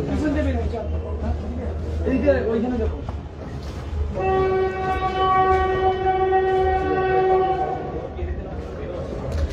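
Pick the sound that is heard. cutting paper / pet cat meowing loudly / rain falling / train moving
train moving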